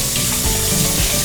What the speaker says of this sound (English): And then you put it back in the pan for it to toast a little bit.